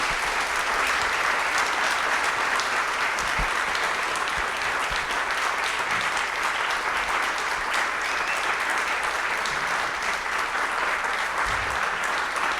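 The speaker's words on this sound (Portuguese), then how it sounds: "essas palmas já dizem tudo" An audience applauds at the end of a lecture at a literary and cultural event, a dense, loud and sustained wash of clapping from many hands that lasts over twelve seconds without a break.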